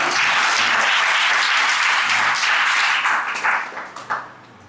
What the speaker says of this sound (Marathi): आजीसाठी टाळ्या होत्या एकदा